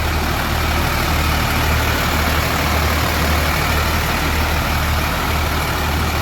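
A bus engine idles steadily on a long-distance coach stop at a roadside restaurant, a constant low rumble with broadband hum, loud and close throughout with no talk.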